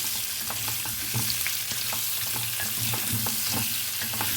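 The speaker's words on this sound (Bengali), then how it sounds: "আলুটাকে আমি লাল লাল করে ফ্রাই করে তারপর ফিরে আসছি" Potatoes fry in a pan for Kashmiri dum aloo, giving a steady close sizzle with crackling pops and occasional stirring clinks throughout and no talking.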